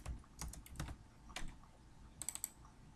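Typing on a computer keyboard: quick, close key clicks in short bursts, with a brief pause midway and a final quick flurry of taps.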